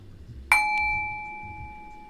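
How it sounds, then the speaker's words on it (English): A single strike on a singing bowl rings out, leaving a pure metallic tone that hums and slowly fades over a couple of seconds in a quiet room. "I'm going to use my beautiful singing bowl to explain this to you"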